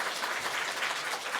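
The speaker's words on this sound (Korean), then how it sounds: "환영합니다 하는 의미에서 우리 박수로 시작하겠습니다." A Sunday-service congregation claps to welcome a new choir accompanist, a brief burst of dense, even applause filling the room.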